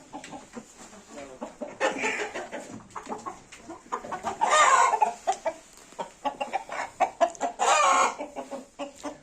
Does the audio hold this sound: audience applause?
no